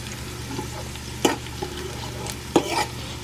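Peanuts frying in oil in a pan for adobong mani, a soft steady sizzle broken by a few sharp scraping stirs, close and fairly quiet, with no talking.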